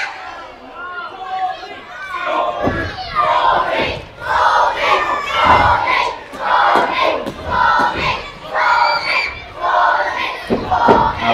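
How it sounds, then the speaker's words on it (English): A wrestling crowd at a tag-team match roars and chants in loud, rising waves throughout, with a commentator talking over the noise. "Now the crowd are really behind Tommy Long from here."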